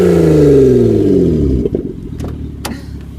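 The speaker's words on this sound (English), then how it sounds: "Snap me revving it." A Hyundai Sonata with its muffler deleted revs loudly up close. The raw, raspy engine note rises and then falls away over a couple of seconds, and some brief clatter follows.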